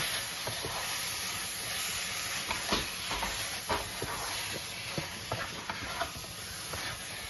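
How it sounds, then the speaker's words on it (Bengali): About a kilo of chicken pieces fries with masala in a pan over raised heat, giving a steady close sizzle and hiss with occasional soft stirring scrapes and pops throughout. "মশলার সাথে চিকেনটাকে একটু ফ্রাই করে নেব"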